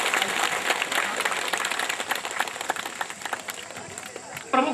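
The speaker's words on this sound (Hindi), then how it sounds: "एक बार जोरदार ताली बजा करके स्वागत करिए" A crowd at a political rally in a Bahraich field claps to welcome a newly elected district president, dense uneven applause under an amplified speaking voice, fading slightly before a loud burst at the end.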